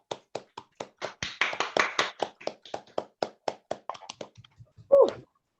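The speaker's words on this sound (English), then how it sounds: "Please, once more, an enormous applause for Lucy." Applause for a poet at a spoken-word and open-mic evening: a small crowd claps in sharp, distinct beats that swell briefly, then thin out to a few scattered claps before a short exclamation.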